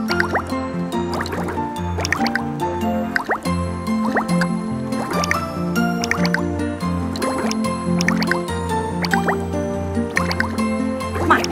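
Bubbles pour from a cartoon toy bubble machine as a lively, evenly paced stream of watery plops, drips and gurgly squishes, up close and alone without any speech.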